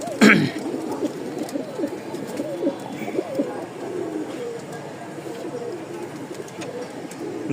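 Lahori pigeons at a pigeon sale give soft, repeated throaty coos, close and fairly quiet. Someone speaks over them, with a brief louder rustle near the start.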